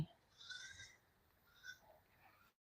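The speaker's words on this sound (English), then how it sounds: "Y'all hear that goat getting upset" A goat on a Missouri homestead bleats several times, upset at being left behind, faint and somewhat distant, with short cries spaced across the moment.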